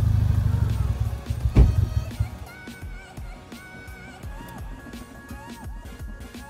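The engine of a steaming Mazda Miata NB idles with a steady low rumble and mechanical clatter after one loud thump, while a voice talks nearby.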